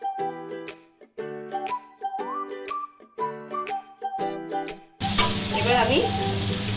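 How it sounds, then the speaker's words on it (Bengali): Melodic music plays for about five seconds, then spices with cumin powder sizzle loudly in a hot pan. "দিয়ে দেব একটু জিরে গুঁড়ো, সমস্ত মশলা ভালো করে কষতে হবে।"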